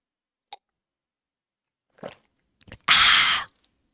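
Close, wet chewing and a swallow of food by a man, beginning with a few small isolated mouth clicks and ending in one louder crunchy burst lasting about half a second, with no talking.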